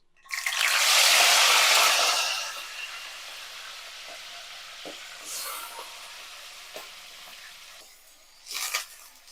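Raw prawns hit a hot pan with a loud burst of sizzling that fades after a couple of seconds into a quieter, steady frying crackle, with a few light clinks and a brief flare near the end.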